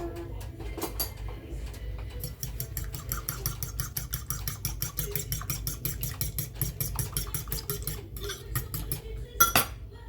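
A utensil scrapes and clinks rapidly against a bowl, mixing sweet paprika, parsley and other taco filling ingredients: a steady rhythmic tapping that runs for about ten seconds, close and fairly quiet, ending with a louder knock.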